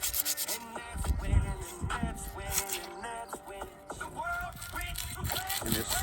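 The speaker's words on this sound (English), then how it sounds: "And this super aggressive sandpaper, I think that's another reason why it's so fast." Coarse 40-grit sandpaper rubs in quick, uneven strokes along an old wooden shovel handle, a gritty scraping that stays close and moderately loud with no talk.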